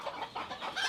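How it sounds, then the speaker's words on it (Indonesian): A Japanese long-tailed chicken, a young hen, clucking in a coop; a few soft, quick clucks in a short run, moderately near and fairly faint. "Nah, kalau ini ayam apa nih Om Raka?"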